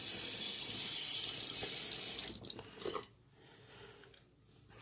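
Water runs from a tap to wet a shaving brush, a loud close splashing stream that stops after about two seconds, followed by a few soft wet dabs and quiet.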